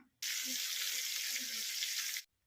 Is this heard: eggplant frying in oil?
yes